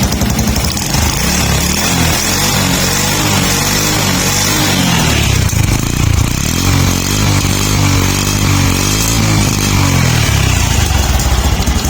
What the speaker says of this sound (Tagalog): Wala po tayong baterya mga sir, normal po ang batakbo ng makina.